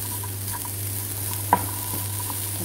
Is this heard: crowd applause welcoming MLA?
no